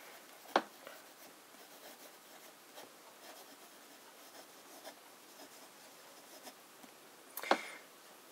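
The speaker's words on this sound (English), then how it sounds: "I'm writing a bit smaller so that I can hopefully fit the sample in one line." Fountain pen with a broad nib scratching across paper, soft faint scribbling punctuated by two sharper taps near the start and end, close and quiet without talk.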